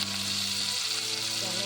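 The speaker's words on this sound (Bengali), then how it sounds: "অল্প কিছু পেঁয়াজ আমি ওই একই সঙ্গে রসুনের সঙ্গে লাল মরিচের সঙ্গে এবং টমেটোর সঙ্গে ভেজে নিচ্ছি" Garlic, red chilli, tomato and onion frying together in a pan for a cauliflower and tomato bhorta, giving a dense, steady, loud sizzle that carries on without a break and with no talk.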